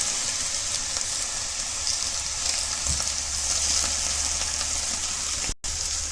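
Vegetables, salted, sizzle and fry in a pan while being stirred, a steady bright crackling hiss with occasional soft scraping pulses, fairly close and continuous, no talking.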